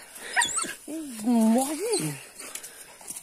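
Hunting dogs on a night-time armadillo hunt give a drawn-out, wavering whimper with a few sharp yips, close by, while someone speaks briefly.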